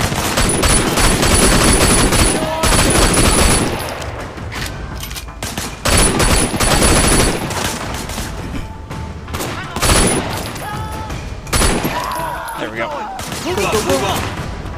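Rapid, dense gunfire bursts from a firefight in the video game Sleeping Dogs, loud close volleys with short pauses between them and voices speaking in the brief lulls.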